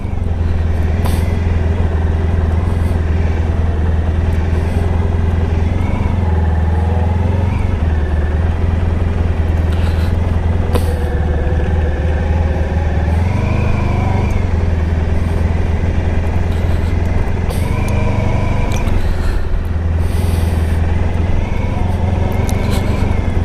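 A Honda ST1100 Pan European motorcycle engine drones steadily and loudly while riding through town toward a Walmart, with a constant low hum and occasional shifts in pitch as it slows and accelerates, plus wind rumble.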